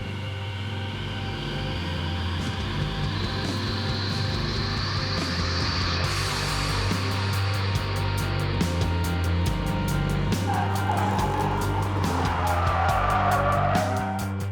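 A blue BMW E36 drifting, its engine droning loud and steady throughout while tire squeal and skid noise rise over it, growing harsher toward the end; no talking.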